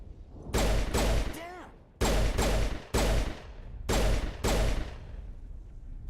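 Gunfire in Mass Effect 1 Legendary Edition: loud bursts of rapid shots come in several clustered volleys separated by brief pauses, close and punchy, with a whooshing sweep after the first burst.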